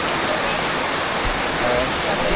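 Heavy rain falls close by in a steady, loud, hissing downpour with low thumps of drops striking nearby surfaces throughout.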